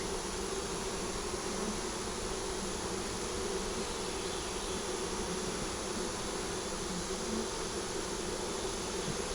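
Honey bees drone steadily at a beehive as green foragers return from a pollen field, a dense continuous buzz that holds close and even throughout with no voices.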